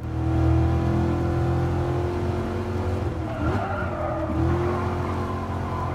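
A car engine in the GT Sport racing game, driven in VR, hums at steady revs, then dips and climbs again in pitch as gears change, with a brief tire squeal in the middle and no talking.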